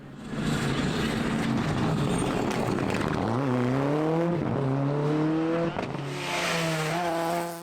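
A Fiesta Proto rally car with Lancer Evo running gear on a stage rally, its engine revving and climbing through gears as it passes, loud and sustained, with a brief lift before pulling away again.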